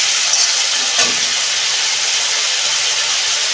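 Ginger garlic paste fries loudly in a pan for a potato-brinjal fish curry, a dense, hissing sizzle right up close that holds steady throughout with a brief stir near the start and no speech.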